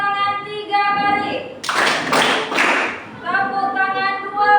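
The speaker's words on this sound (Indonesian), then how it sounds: "Tepuk tangan 3 kali." A group of standing participants at a coaching session claps in unison three times, with loud, sharp claps over a steady music bed.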